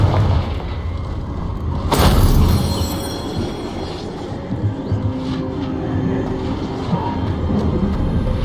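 A Confringo fire spell in Hogwarts Legacy bursts in a sudden loud explosion early on, followed by a lingering low rumble and crackling debris as the blast dies away.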